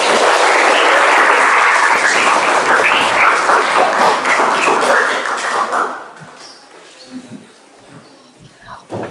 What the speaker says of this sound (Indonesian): Aplaus lagi buat kalian